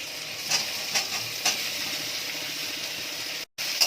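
Boiled, seeded amla dropped into hot oil with fennel seeds and dried chillies, sizzling in a continuous close hiss with a few sharp crackles and a momentary gap near the end.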